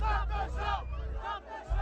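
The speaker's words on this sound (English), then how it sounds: "part of the crowd can be heard chanting, "Stop the show,"" A concert crowd chants in unison, a rhythmic group shout of several repeated phrases, loud and close, mixed with general crowd noise and babble.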